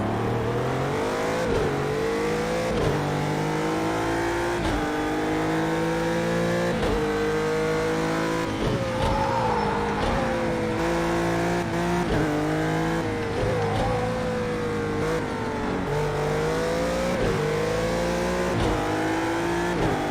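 Race car engine revving hard through repeated gear changes on track, a loud, continuous, close-up roar with rising and falling pitch sweeps and a slightly clunky gearbox.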